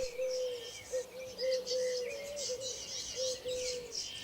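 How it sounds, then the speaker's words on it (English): Redpolls and other garden birds call while feeding. Repeated mid-pitched coo-like notes sit beneath bright, high chirps and twitters in short overlapping bursts, close by and fairly clear. "These little redpolls are really attractive birds, especially the male, now in the breeding season."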